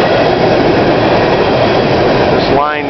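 Empty BNSF coal train running southbound on a CSX line in Plymouth, Michigan, a loud, close, continuous rumble of rolling cars with a brief rising squeal near the end.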